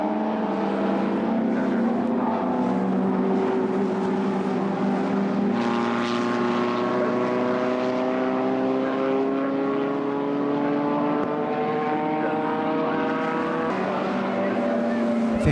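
Historic sports racing cars, including a TVR, lap a circuit, their engines a continuous loud roar with rising and falling pitch as cars pass in sequence, sustained throughout.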